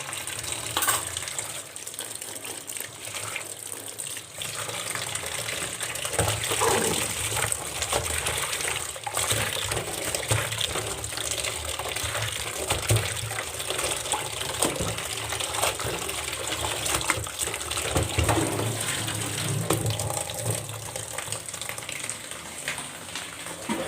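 Steady rushing tap water pours continuously into a bucket, a broad hissing gush that stays even throughout with no talking.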